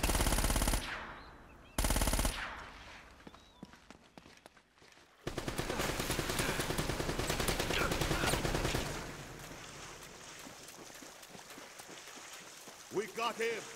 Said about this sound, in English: there's a guy around this corner trying to shoot at me